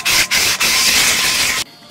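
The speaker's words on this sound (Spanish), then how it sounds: "Primero vamos a lijar un poco para sacar todos los óxidos." Sandpaper scrubs across rusty metal to strip off the corrosion, a loud close rasping rub in short strokes with two brief pauses, then it stops.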